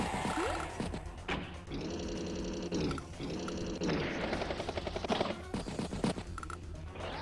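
Rapid bursts of video-game unit attack gunfire from Advance Wars, with dense rattling volleys in repeated segments over a busy layer of game music and effects.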